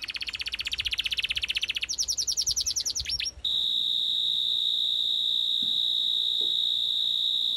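Cartoon birds chirp in quick repeated tweets, loud and close, for about three seconds, then give way to a steady high whistling tone with no voices.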